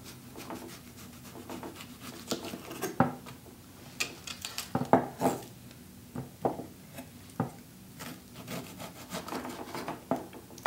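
A knife cuts through the bottom and edge of an onion on a board. There are repeated soft scraping and tapping strokes, fairly quiet and close, at an uneven rhythm.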